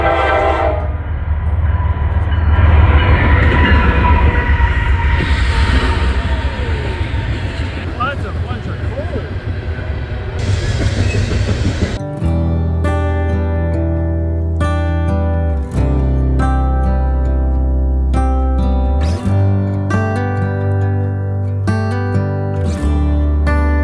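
A passing train rumbles loud and close beside a creek campsite, with clattering wheels and rushing noise in the first half, then sustained horn blasts sounding in long repeated blows over the continuing roar.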